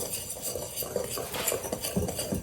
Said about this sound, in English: go ahead and whisk that together really well